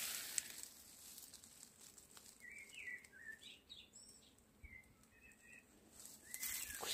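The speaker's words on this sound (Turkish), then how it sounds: "Kuş seslerini duyuyorsunuz." Wild birds sing outside a mountain house near a clover-covered garden, a few short whistled chirps and trills scattered over soft outdoor ambience, faint and somewhat distant.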